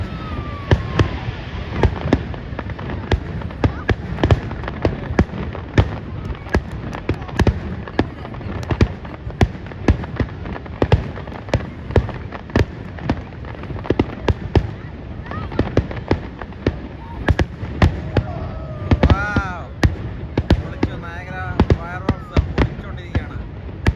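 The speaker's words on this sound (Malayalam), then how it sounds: "അടിപൊളി ഫയർ വർക്ക്സ് ആയിരുന്നു." Fireworks display at Niagara Falls: a dense, continuous barrage of booming bursts and sharp crackling pops over nearly half a minute, with voices audible in the background.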